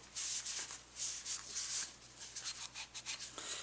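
Brisk, repeated scrubbing strokes as grease and powder residue are wiped off KelTec SUB2000 rifle parts, a close, soft rhythmic rubbing in short bursts, faint and alone.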